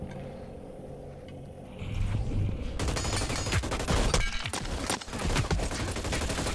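Rapid bursts of Ripper assault rifle fire crackle in a Hyper Scape match, loud and sustained with dense repeated shots over busy game ambience.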